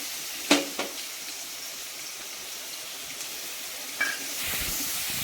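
Ground green chilli, garlic and ginger paste sautéing in a hot pan gives a soft, steady sizzling hiss, with a few brief clinks of stirring near the start and again toward the end.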